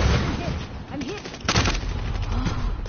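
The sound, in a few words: sniper rifle shot in a PS4 video game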